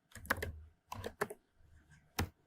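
Computer keyboard keys clacking in short bursts while code is typed, with brief pauses between clusters of keystrokes, close and fairly quiet.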